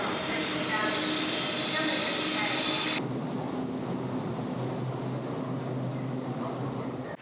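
Steady rumble of a slow passenger train to Tainan heard from inside, with a high whine that cuts off early, then continuous rolling noise.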